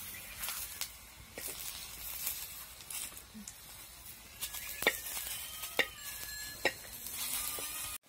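Vegetable mutkule (phanda bhaji dumplings) fry in oil in a pan, a steady low sizzle broken by sharp clicks and scrapes as the pieces are turned, with a few faint tonal squeaks near the end.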